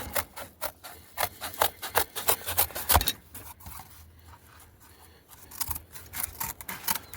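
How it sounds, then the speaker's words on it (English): Material being cut into strips with scissors or a blade for a homemade buddy burner: a rapid series of close, crisp snipping clicks that pauses briefly midway, then resumes. "We'll continue to cut these strips up here."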